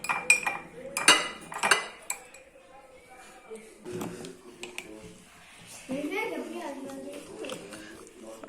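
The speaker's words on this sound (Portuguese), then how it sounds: "E vou mexendo." Beet syrup with sugar being stirred in a pan: a spoon clinks and scrapes against the metal in bursts, loudest early on, then softer stirring as people talk over it.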